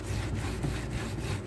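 Scrubbing a kitchen exhaust filter clean, a rapid rhythmic back-and-forth rasping of brush strokes, close and steady, about five strokes per second with no talking.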